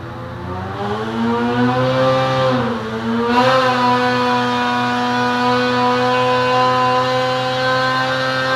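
A Ski-Doo 850 two-stroke snowmobile engine fitted with a Bikeman Ultimate 911 kit holds a loud, steady high-rev howl, dipping briefly and climbing back before settling into a sustained buzzing drone.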